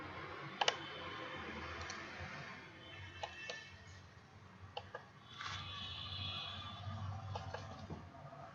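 Computer mouse clicks at a browser file-upload button: a handful of sharp, close clicks scattered irregularly over a quiet room background, with a few double clicks.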